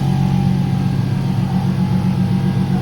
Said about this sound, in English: That noise that you hear is the scavenge pump